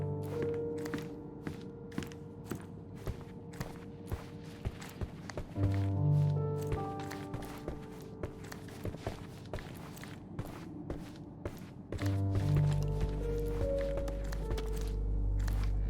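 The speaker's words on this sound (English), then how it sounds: "I heard footsteps upstairs a second ago." Footsteps in Sherlock Holmes Chapter One, a steady run of sharp regular steps on a hard floor, fairly faint, with low thuds and game ambience swelling underneath partway through.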